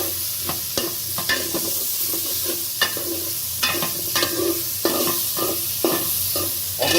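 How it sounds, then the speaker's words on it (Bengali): Onions and chilies frying in oil in a pan for a country chicken curry, a continuous close sizzle broken by repeated scraping and clinking strokes of a spatula as they are stirred. "এখন এটাকে আমি নাড়াচাড়া দিব"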